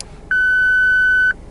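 The parking sensor button in a car gives a single steady electronic beep, loud and close, lasting about a second before it cuts off.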